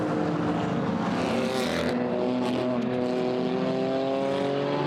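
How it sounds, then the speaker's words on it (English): GT4 race cars howl past at Brands Hatch on the way down to Graham Hill Bend, loud rising and falling engine notes with clear pitch sweeps as several cars pass close by, no talk. "So the cars are turning their way down towards Graham Hill Bend once more."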